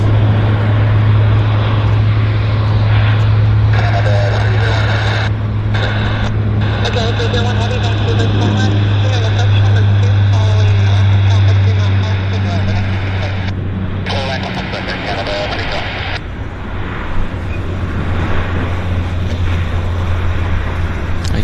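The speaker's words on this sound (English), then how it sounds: "Nice takeoff." An airliner takes off at Vancouver International Airport, a steady loud jet roar with a strong low drone that holds, then fades as the plane climbs away; people talk over it.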